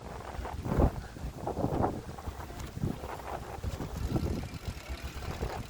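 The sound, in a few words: wind blowing on the Champs-Élysées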